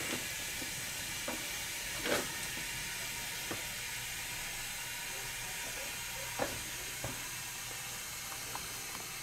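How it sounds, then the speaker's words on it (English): A vacuum is released from casting investment with a steady, airy hiss of escaping air throughout, with occasional faint clicks and taps over it. "Now we're going to release the vacuum."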